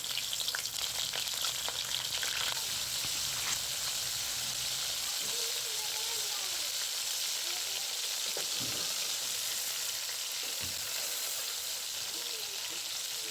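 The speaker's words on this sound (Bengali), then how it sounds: "মাছ ফ্রাই করে নিলাম।" Dried Bombay duck fish frying in hot oil, a continuous dense sizzle and crackle with occasional stirring scrapes, steady and close throughout.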